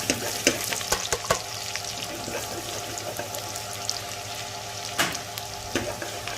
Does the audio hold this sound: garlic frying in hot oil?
yes